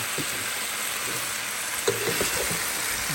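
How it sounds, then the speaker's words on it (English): Pork sautéing in a hot pan ahead of onion and garlic, giving a steady close sizzle and crackle with a few brief stirring bumps near the middle. "We're going to saute and fry the pork"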